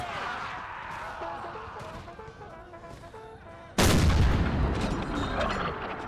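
Cannon canister fire in an Empire: Total War mod battle, a single sudden loud boom about midway that rolls into a sustained rumble, after a stretch of busy battle ambience with scattered musket-like cracks.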